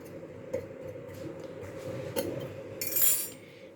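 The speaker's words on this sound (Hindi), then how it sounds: "अब हम इसमें एक फोक के हेल्प से इसमें थोड़े हम छेद करेंगे" Fork poking holes in pizza dough, a series of light irregular taps and clinks of metal against the pan, close and quiet over a low background hum.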